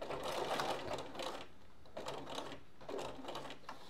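Sewing machine stitching a vinyl bag, running in three bursts of rapid, even needle chatter with short pauses between them, close and steady, with no talking.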